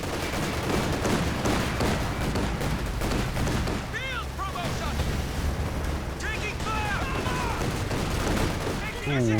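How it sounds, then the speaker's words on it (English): Gunfire and grenade blasts from a Company of Heroes 2 battle crackle continuously, with dense bursts and muffled explosions, plus whistling shell sounds in the middle and at the end. "grenades slightly into the retreat path, hoping he could catch out PGA"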